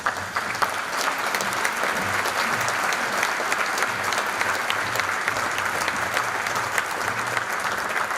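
An audience at a concert marking the 50th anniversary of the Armenian Catholic Church applauds steadily as a singer is welcomed, with dense sustained clapping throughout.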